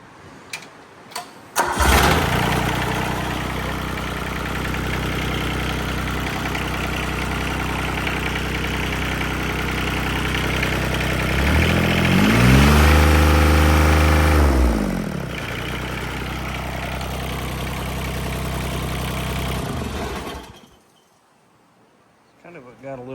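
A John Deere 330 lawn tractor engine cranks and fires, then idles steadily at close range, with a brief rise in revs midway before it settles and shuts off near the end, leaving a slight nailing knock in the running sound.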